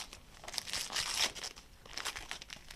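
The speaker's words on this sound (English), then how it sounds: "You can unwrap it." Christmas wrapping paper being torn and crinkled as a present is unwrapped, heard as a few close rustling rips in quick bursts, fairly quiet.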